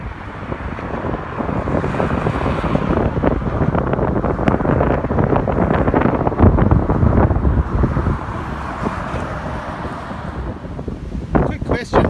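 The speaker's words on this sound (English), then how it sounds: "Very windy up here." Strong wind buffets the microphone in steady, roaring gusts for the whole stretch, with a few sharp crackles near the end.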